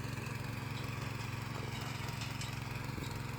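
A Krisbow cultivator engine runs steadily while tilling soil outdoors, a constant throbbing mechanical drone at moderate distance with no pauses.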